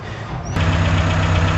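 A freshly rebuilt Nissan Pulsar EXA turbo (Pulsar NX) engine comes to life after a brief quieter moment, then runs with a loud, close, steady rumble and a fairly even low drone.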